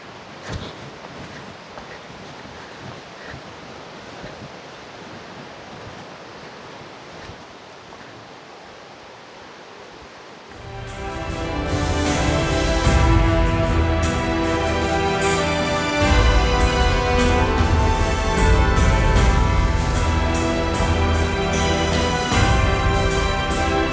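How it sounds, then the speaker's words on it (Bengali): Langlok waterfall in the Bandarban hills plunges continuously with a dense, loud roar that swells in abruptly partway through, after a quieter, hissing wash of distant falling water. "সাথে শুধু ঝর্ণার পানি পড়ার অবিরত শব্দ"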